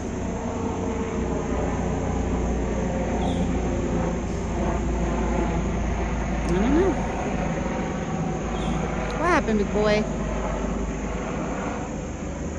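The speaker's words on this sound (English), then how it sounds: "Now we got a helicopter flying over." A steady low engine drone of a helicopter flying low overhead fills the scene, continuous and fairly loud, while a person speaks briefly over it.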